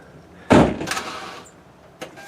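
A car door thumps shut close by with a solid slam, followed by a brief rattle and a small click a moment later.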